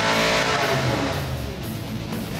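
An engine running on a dynamometer at Williams Precision Engines during spark plug test pulls, a loud steady roar with dense harmonic drone throughout, no talk over it.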